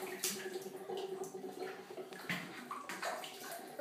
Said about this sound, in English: You see, now you just get to play. Splash, splash, splash.